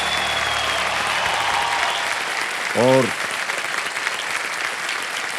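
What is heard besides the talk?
studio audience applause for contestant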